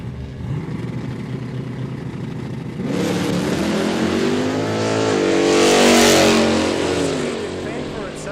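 Street cars race side by side down a drag strip at a quick street day in Kooralbyn Valley, engines rising to a loud roaring pass with a commentator talking over them.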